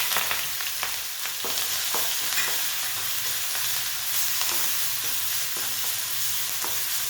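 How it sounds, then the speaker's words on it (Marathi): Cumin, mustard seeds, asafoetida, curry leaves and a ground paste sizzle steadily in hot oil in a pan for a Maharashtrian zunka or pithla, with a dense continuous crackle and occasional stirring scrapes, close and alone. "जिरे मोहरी उडल्यानंतर हिंग कढीपत्ता आणि ही जी पेस्ट बनवून घेतलेली ती टाकणार आहोत"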